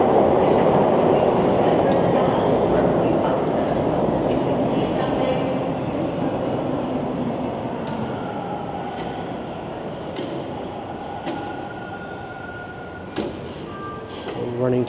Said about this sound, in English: Here comes another train already.